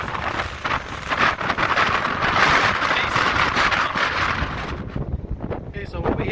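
Strong wind buffets the microphone on a Lake Superior beach at Paradise, Michigan, a loud continuous roar with gusts that ease off near the end; a voice talks faintly beneath it.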